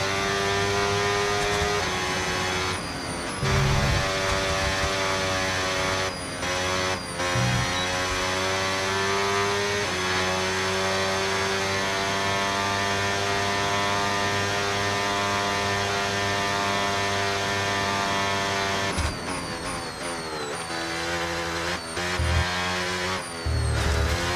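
A Formula 1 car lapping Spa-Francorchamps in the racing game F1 25: a loud, continuous high-pitched engine whine that drops and climbs through several gear changes and lifts, with a low steady hum underneath.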